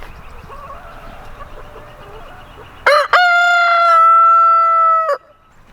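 A rooster crows once, loud and close, a long ringing cock-a-doodle-doo after a quiet stretch of faint background noise.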